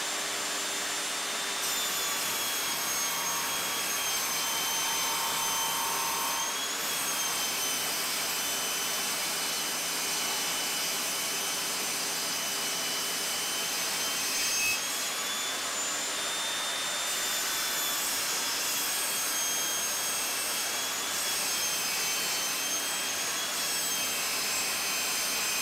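A Saxton fine-tooth blade with a 25.4 mm bore runs on an Evolution Rage 5S saw, cutting with a loud, sustained screaming whine that shifts slightly as the load changes, close up and unbroken throughout with no speech.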